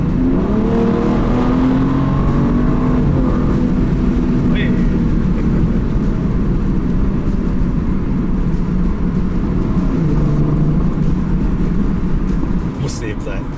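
An Alpina B3 Biturbo F30 sedan with a 410 hp engine and Akrapovic exhaust drones loudly through a tunnel, its booming engine note shifting as it drives, with someone talking over it.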